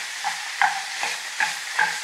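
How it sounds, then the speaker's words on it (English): Wooden spoon breaking up and stirring ground meat in a hot pan, with a soft steady sizzle and several distinct scraping clacks at an irregular rhythm, close and moderately loud, no talking. "Break it up with your wooden spoon."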